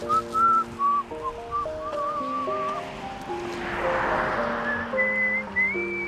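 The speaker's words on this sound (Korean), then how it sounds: "고요하고 평화로운 풍경에 휘파람이 절로 나옵니다." Someone whistles a slow, wandering melody over soft background music, the whistle clear and fairly close.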